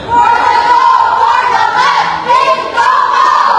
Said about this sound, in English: One more cheer from that group.